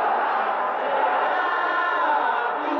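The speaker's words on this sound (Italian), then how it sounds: "Le tifoserie delle due squadre sono presenti al gran completo." Football fans of two teams fill a stadium at a derby, a steady, dense roar of chanting and shouting voices sustained throughout at a distance, with no single voice standing out.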